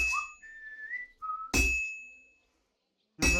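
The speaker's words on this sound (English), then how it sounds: "Now you whistle." Whistling during blacksmithing in the video game Kingdom Come: Deliverance II, a clear melodic whistle rising and holding steady pitches, broken by bursts of clanging metal from the anvil and a steady high tone.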